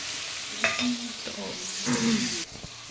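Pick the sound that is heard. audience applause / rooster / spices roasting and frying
spices roasting and frying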